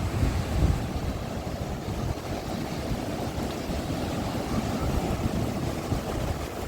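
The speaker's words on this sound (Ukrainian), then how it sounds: "Такі теж серйозні хвилі" Powerful storm waves on the sea at Arcadia beach in Odesa, a steady roar of surf with wind buffeting the microphone, continuous and broad without speech.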